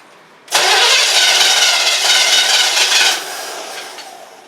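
A 1977 Chevrolet Camaro with a faulty carburetor cranks and fires up abruptly, roaring loudly for about two and a half seconds before dropping to a lower, steadier idle.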